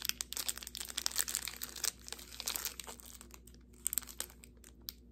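The wrapper of a Nestle Aero chocolate bar being torn open and unwrapped up close, giving continuous crisp crinkling and rustling with brief pauses, no voices.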